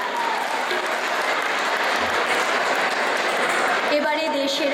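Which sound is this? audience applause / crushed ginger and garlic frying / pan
audience applause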